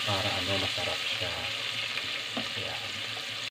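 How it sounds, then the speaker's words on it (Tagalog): Pork fries in hot oil in a cooking pot, a loud, steady crackling sizzle that runs throughout, with a few brief stirring scrapes. "Dapat iprito natin siya yung parang medyo malutong"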